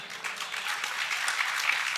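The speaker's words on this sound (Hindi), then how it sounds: "तालियां बजाओ रे।" Audience at a Jain religious discourse breaks into brief, dense applause, a continuous even wash of many hands clapping at moderate volume.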